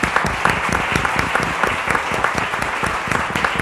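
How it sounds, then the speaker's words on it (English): Sustained applause from an audience at a public talk, honoring young men from an academy who stand; dense, steady clapping at close range with no talking over it. "let's give each one of them a big round of applause"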